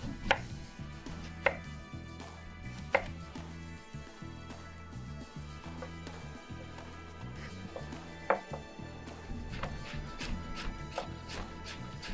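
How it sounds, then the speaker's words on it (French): A kitchen knife slices vegetables into thin 1 mm slices on a board, giving a series of sharp, irregular chopping knocks close by with no talk. "on fait des tranches d'environ 1 mm d'épaisseur"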